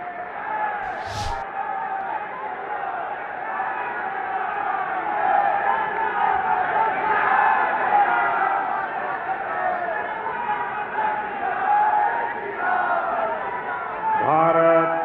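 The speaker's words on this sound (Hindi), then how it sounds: "माननीय प्रधानमंत्री श्री नरेंद्र मोदी जी को आइए जोरदार तालियों के साथ आदरपूर्वक आमंत्रित करते हैं" A large crowd at an event welcoming Prime Minister Modi, sustained loud cheering, shouting and applause filling the whole stretch, with a rising whistle near the start.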